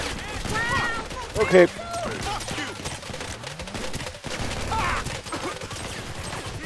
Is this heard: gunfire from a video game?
yes